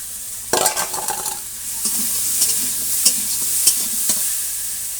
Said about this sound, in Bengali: উচ্ছে আলু কষাচ্ছি আর উচ্ছে বাজার হয়ে গেছে উচ্ছে দিয়ে দেবো